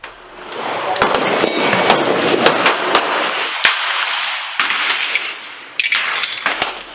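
A 1911 Commander pistol in .45 ACP fires at a shooting range in a rapid string of sharp, loud cracks, with some overlapping and some spaced apart amid echoing range noise.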